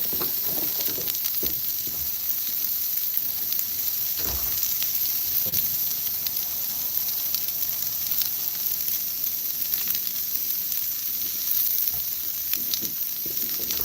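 Onions and hot dogs sizzle steadily on a Blackstone flat-top griddle, a continuous close, moderately loud frying hiss with a few soft scraping clicks and no talking.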